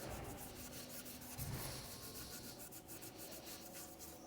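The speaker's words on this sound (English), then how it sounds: "I'm now going to use a bit of Scotch-Brite, which is a bit of abrasive pad, and do all the spokes and stuff." Abrasive Scotch-Brite pad scrubbed over the spokes of a Peugeot 206 alloy wheel during refurbishment, a steady close scratchy rubbing that continues throughout with a slightly heavier scrape midway.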